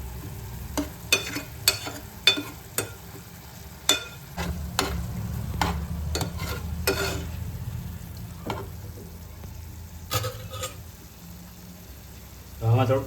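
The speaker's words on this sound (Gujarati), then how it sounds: "તો બધા મસાલાને આપણે સડવા દઈશું." Spices frying in a pan for a dhaba-style Kathiyawadi Ratlami sev curry, a steady low sizzle broken by repeated sharp scrapes and clinks of a spoon stirring against the pan.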